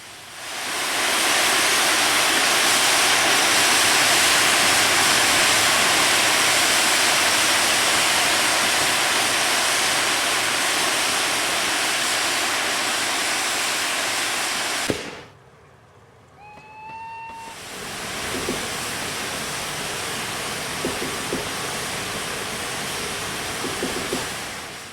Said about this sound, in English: I could clearly hear the safety valves blowing off from about half a mile away